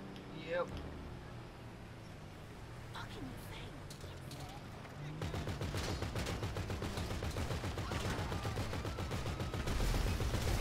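Rapid automatic gunfire in Grand Theft Auto V, a dense run of shots that starts midway and keeps going steadily and fairly loud to the end, with voices talking underneath.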